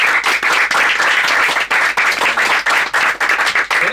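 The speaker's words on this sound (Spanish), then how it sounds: "les pido un aplauso." An audience at a student audio-engineering talk breaks into sustained applause, loud dense clapping from many hands filling the room without a break.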